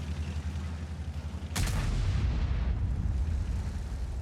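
A single tank cannon shot in World of Tanks during a competitive esports match: one loud, sharp blast followed by a sustained low rumble and roar that lingers over steady background game noise.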